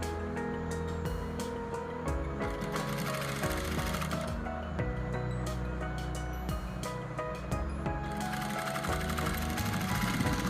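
Sewing machine stitching piping around a round neckline on fabric: a close, continuous mechanical whirr with a fast, steady needle rhythm throughout, with faint speech underneath.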